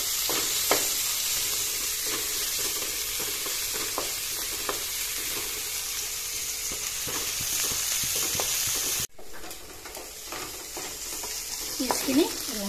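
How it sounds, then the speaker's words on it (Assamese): Onions sizzle and fry in a pan for an okra and potato dish, a steady close hiss with occasional stirring scrapes, a brief cut partway through, then the frying carries on with no voices. "ইয়াতে দি দিছো পিঁয়াজখিনি পিঁয়াজখিনি অলপ ৰং চুমুৱা হ'বলৈ দি"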